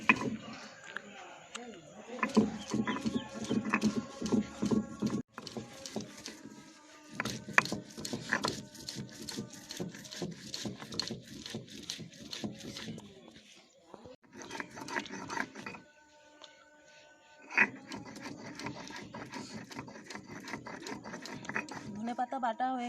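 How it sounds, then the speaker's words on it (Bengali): Fresh coriander leaves being ground on a stone, a rhythmic scraping and grating of repeated strokes close by, pausing briefly between bursts, with a voice talking at times. "এবার ধনে পাতাটা বেটে নিচ্ছি।"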